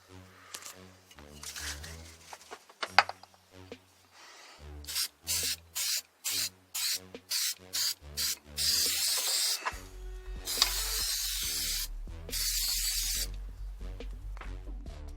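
An aerosol can of rust reformer sprays onto a Chevy Trailblazer truck frame in a series of short, rhythmic hissing bursts, followed by longer sustained sprays, with rustling and handling noises in between.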